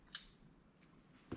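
Scissors snip through orange crochet yarn up close: one crisp, bright cut, then a quieter click of the blades about a second later, with no talking.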